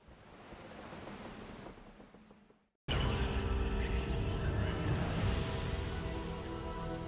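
Water waves in Devil May Cry rush steadily as a broad surf wash, fading into a brief silence before returning louder and fuller, continuous with no talk.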